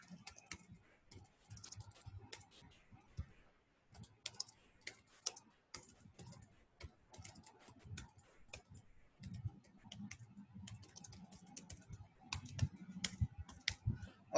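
Irregular bursts of clicking keystrokes on a computer keyboard while code is written, with short pauses between flurries; fairly quiet and close, no talking.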